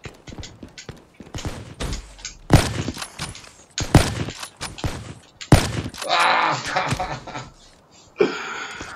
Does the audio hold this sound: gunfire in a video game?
yes